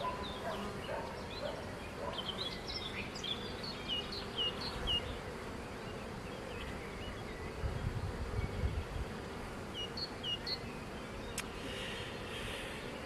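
Honey bees buzzing at an open beehive, a dense, steady drone with individual bees passing close to the listener, continuous and moderately loud outdoors.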